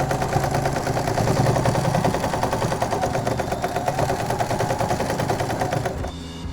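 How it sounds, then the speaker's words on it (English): A domestic sewing machine stitching a fabric scrunchie, a loud, steady rapid mechanical whir and needle clatter running continuously at close range before dropping off at the end, with no talking. "let me bring my sewing machine back, turn it on because I'm going to be using it now"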